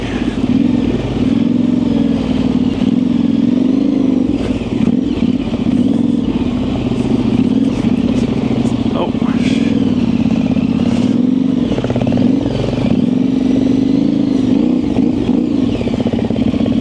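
Yamaha Tenere 700 adventure motorcycle ridden along dirt single track in Michigan, its engine droning loud and steady throughout with rising and falling revs and a constant rattle of chassis and terrain, no talking.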